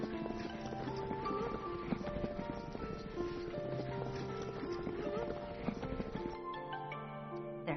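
Horse hooves clip-clop steadily among Kazak nomads, a dense continuous stream of hoofbeats that barely changes over about eight seconds.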